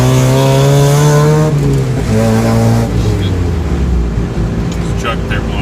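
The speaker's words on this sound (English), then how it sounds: "this has changed the whole sound dynamic that the car makes" A Mazda Miata with a cheap race exhaust header idles and revs nearby, a loud, raspy engine note that rises and falls in pitch over a steady rumble.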